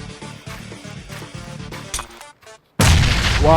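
A grenade blast in the battle-royale game PUBG: a loud, broadband explosion hits about three seconds in, after a stretch of game sounds and a brief near-silence, then rumbles on to the end.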